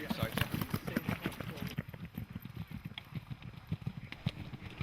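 Clydesdale horses trot along on a ride through the Scottish Borders, their hooves striking in a quick, steady clip-clop rhythm that sounds close and clear throughout.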